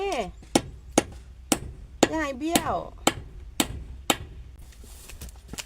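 Sharp wooden knocks from hammering while an elderly man carves a wooden cow yoke, about ten evenly spaced blows, close and clear, with someone talking between strikes.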